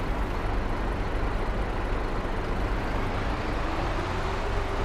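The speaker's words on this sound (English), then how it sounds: "Yeah, the Jake brake on that Mac is awesome." Engine-braking roar from a Mack truck's Jake brake in Farming Simulator 22, a sustained, dense, heavy rumble that holds at an even, loud level for several seconds with no talking.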